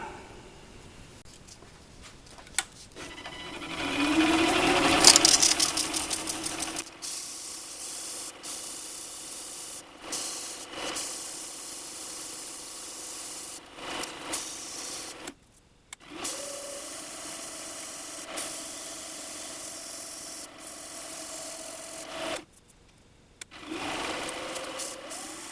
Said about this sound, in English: put it back on the lathe and let it spin. That way I can use some sandpaper or something to